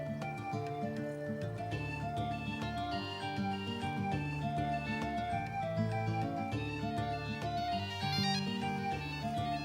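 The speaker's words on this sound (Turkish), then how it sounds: "Bu Ayşegül'ün cep telefonunun sesi." A melodic mobile phone ringtone plays steadily for several seconds, loud and continuous, with a repeating electronic tune.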